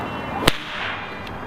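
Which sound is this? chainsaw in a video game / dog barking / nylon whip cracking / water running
nylon whip cracking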